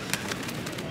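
A pigeon cooing outdoors in Italy, giving a few soft, brief calls over a busy ambient background of steady noise.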